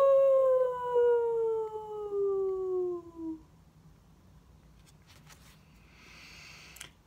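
A person's voice imitates a long, loud howl that slides downward for about three seconds. Quiet follows, with a few faint clicks and rustles.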